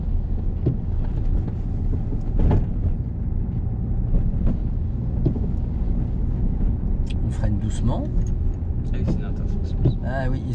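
A car pulls away again during a driving lesson, its engine rising gently under steady road and wind noise while an instructor and learner talk throughout.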